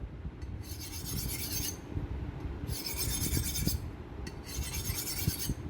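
A chipped knife is honed on a white ceramic steel of about 1200 grit, giving three long scraping strokes of metal against ceramic over a low, steady background rumble, close and moderately loud.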